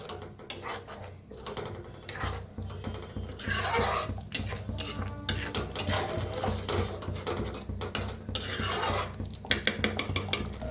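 Masala for a village-style mixed vegetable curry gets stirred and mixed in a pan over a wood-fired stove, producing repeated close scraping and rubbing strokes of a spoon against metal with light clinks and a faint sizzle underneath.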